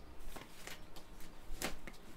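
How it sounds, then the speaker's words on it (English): Trading cards from the Dinosaur King arcade game being shuffled by hand, close up, with a few soft rustling swipes and one sharper riffle near the end, no voices. "I'm just shuffling through my cards"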